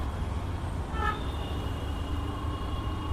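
Road traffic in Chandivali, Mumbai, with trucks parked along the roadside, a steady rumble of passing vehicles and a short horn toot about a second in, moderately near.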